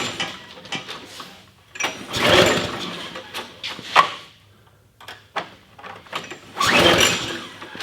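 Two bursts of pull-start cranking on a log splitter's gas engine, each a few seconds long and fairly close, with quieter rattling in between; the engine never catches and runs.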